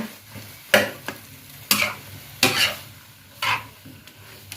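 Cucumber stir-fried in a pan over high heat, with four or five loud scraping strokes of a spatula spaced about a second apart over a soft sizzle.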